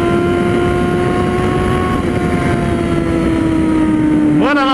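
A four-cylinder motorcycle engine holds a loud, steady droning hum up close, then revs sharply upward in a quick rising whine at the end.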